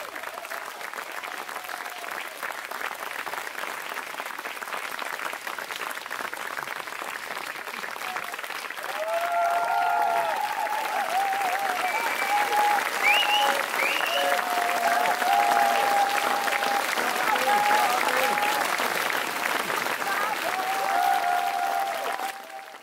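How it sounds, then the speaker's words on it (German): Applause from a live concert audience fills a hall. A broad wash of many hands clapping carries on without a break, swells louder halfway through, and has scattered cheers and voices mixed in. "wenn's euch gut gefallen hat, na, dann gebt's einen Applaus"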